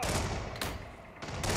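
Gunshots in the Hitman video game, a few sharp loud bursts separated by short gaps, with no talking over them.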